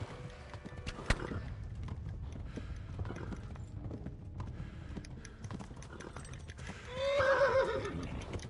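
Horse hooves clip-clop at a gallop in Kingdom Come: Deliverance, a steady drumming rhythm that builds into a loud, close whinny near the end.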